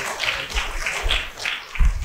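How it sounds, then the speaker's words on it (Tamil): A church congregation claps together in a steady rhythmic beat, a roomful of hands striking in unison at an even pace. "கைத்தட்டு பார்ப்போம்."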